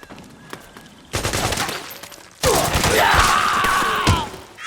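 Bursts of suppressing gunfire in Metal Gear Solid 4, loud and close: a dense volley, a short pause, then a longer sustained barrage with whizzing and ricochet-like streaks over the shots.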